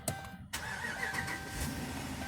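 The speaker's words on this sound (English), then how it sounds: "I can start the car now." A 2011 Dodge Durango engine cranks and catches after a brief quiet pause, then settles into a steady running hum heard close by, with no voices.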